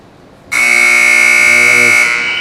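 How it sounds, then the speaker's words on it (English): A loud, harsh game-ending buzzer at a goalball match blares suddenly and holds steady for about a second and a half before cutting off. "The buzzer sounds"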